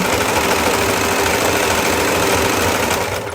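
A sewing machine stitches a dress in one steady, fast whirring run, its motor buzzing loud and close without a break before easing off at the very end.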